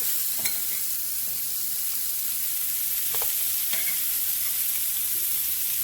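Sweet potatoes stir-frying in a seasoned pan give a steady, fairly faint sizzle with a few light scraping clicks from stirring, no voices.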